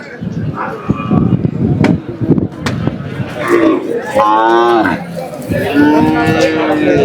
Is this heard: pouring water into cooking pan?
no